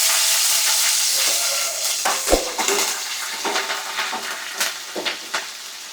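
Green chillies, curry leaves and mustard seeds fry in hot oil for a Karnataka-style dish, giving a steady bright sizzle with scattered spoon scrapes and clinks against the pan, close and moderately loud.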